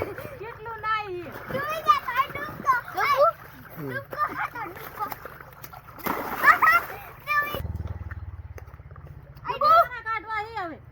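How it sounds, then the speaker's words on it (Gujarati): Children splash water over and over at a farm, sharp wet splatters that come and go between their excited chatter and shouts, with a low rumble and a quieter stretch near the end. "એટલું પાણી ઉડાડે"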